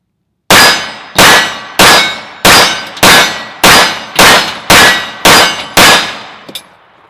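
Ten shots from a CZ75 SP-01 Tactical pistol firing Winchester White Box ammunition, loud sharp cracks at an even pace of roughly one per half second, each with a short decaying ring, and no talking.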